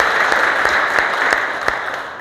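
Applause from a workplace audience at a factory safety day event, a steady, dense clapping that stays strong and even for the whole short stretch, with a few sharper claps standing out.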